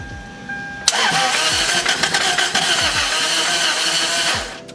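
A Toyota MR2 engine cranking with a rhythmic starter churn that nearly catches, loud and close, with repeated surging pulses before cutting out at the end.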